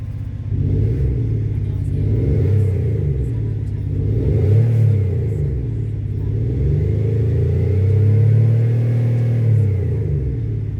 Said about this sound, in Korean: C63 AMG 소리입니다